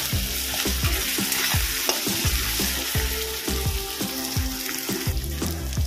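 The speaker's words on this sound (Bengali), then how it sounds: "এটাকেও ভালো করে ভেজে নেবো যতক্ষণ না কাঁচা গন্ধ যাচ্ছে" A teaspoon of ginger garlic paste fries in a pan for a Bengali chital fish muitha dish, a steady close sizzle with rhythmic spatula scrapes and taps repeating about twice a second, no talking.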